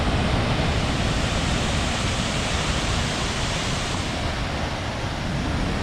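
Cachoeira da Formosa in Rio dos Cedros, Santa Catarina, a wide, tall waterfall running at high volume after overnight rain, gives a steady, loud, close roar of rushing water with no voices over it.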